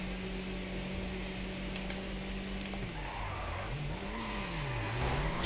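A game car's engine in GTA 5 holds a steady drone, then revs rise and fall in sweeping waves as the car drifts, fairly quiet with no talk.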